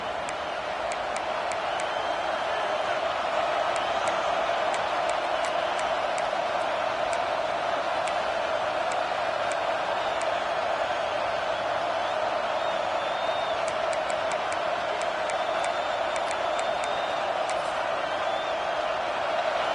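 A stadium crowd at a Boise State college football game roars on fourth down, a continuous distant wall of cheering and noise that holds steady throughout.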